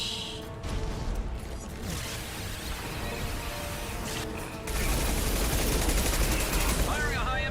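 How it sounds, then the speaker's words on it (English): Dense gunfire during combat in the Mass Effect 2 video game, continuous loud rattling bursts with mechanical clatter that intensify partway through, under occasional game dialogue. "Firing a high-impact shot."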